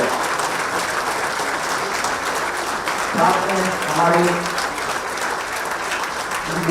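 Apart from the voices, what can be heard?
loud applause welcoming the chief minister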